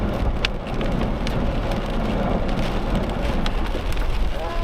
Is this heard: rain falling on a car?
yes